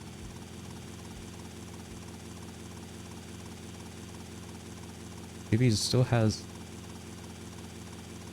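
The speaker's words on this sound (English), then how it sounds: "Probably having a bit of trouble landing a helicopter." Grand Theft Auto Vice City helicopter engine holds a steady droning whir with a low throb, an even in-game loop running throughout as a commentator briefly speaks over it.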